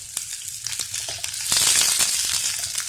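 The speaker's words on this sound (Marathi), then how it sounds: "आपण थोड्याशा तेलावर कांदा परतून घेऊया." Onion sizzles in a little oil in a pan while cooking for an egg curry, a steady close crackle with brief stirring clicks that grows louder partway through.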